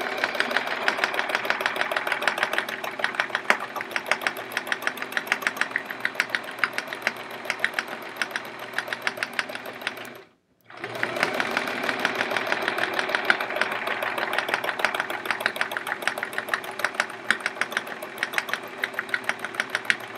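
A domestic sewing machine runs fast and steadily during free-motion quilting on a chevron quilt, its rapid needle chatter continuous and close, broken only by one short pause midway before resuming.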